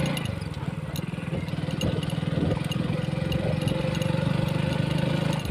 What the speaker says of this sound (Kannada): ಗಾಡಿ ರೈಡ್ ಮಾಡಿ ನೋಡೋಣ ಹೆಂಗೆ ಹೋಗುತ್ತಂತ್ರಿ